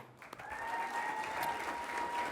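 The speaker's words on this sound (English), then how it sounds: "Please give a round of applause to John Mayer as he joins us on the stage" An awards-show audience applauds as an honoree walks onto the stage, with dense, steady clapping that builds quickly and holds at a moderate level, plus a faint sustained tone underneath.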